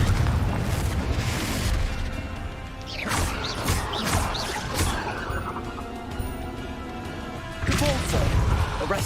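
Combat in the Hogwarts Legacy video game includes a Confringo fire blast spell: heavy booms, smashes and whooshing impacts come in loud waves, with a voice speaking between the blasts.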